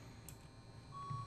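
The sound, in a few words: repeated electronic beeping in the video game Get Even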